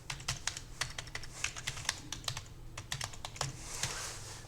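Typing on a computer keyboard, a quick irregular series of crisp clicking keystrokes with short pauses, close and clear over a low hum, no voices.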